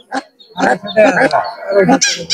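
Geese and ducks at a poultry market in Mymensingh, Bangladesh, honk in a rapid, noisy series of nasal calls close by, overlapping one another.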